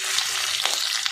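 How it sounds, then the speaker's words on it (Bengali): Fish roe frying in a pan of oil, a close, dense and steady sizzling hiss that fills the short moment without pause. "মাছের ডিমটা মোটামুটি ভালো করে ভেজে নেব"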